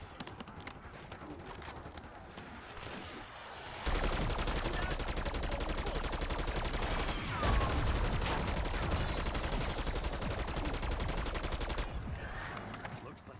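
Dense automatic gunfire from Black Ops 6 Zombies, a steady rapid rattle that kicks in loud after a quieter opening and keeps going for about ten seconds without a break.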